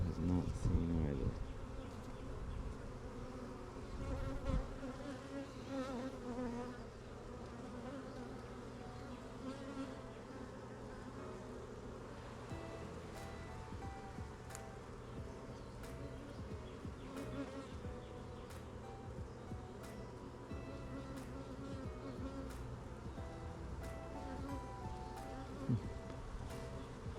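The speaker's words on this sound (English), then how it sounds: "That shrine's definitely got a lot on there. A lot of bees." Dense swarm of bees buzzing steadily around a shrine, a continuous close drone with individual insects passing near, with no talk over it.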